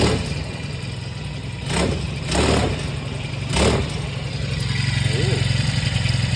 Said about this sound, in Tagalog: kung gagamit ng gear oil sa engine ng Honda 4-stroke, yan, mahina na yung tunog